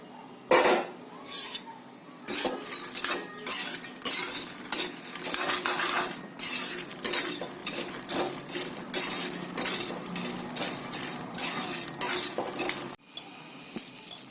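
Peanuts dry-roast in a kadai, stirred in rhythmic bursts of dry scraping and rattling against the metal, with short pauses between strokes and no talking.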